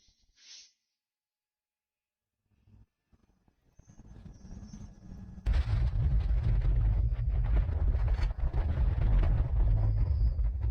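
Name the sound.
volcano eruption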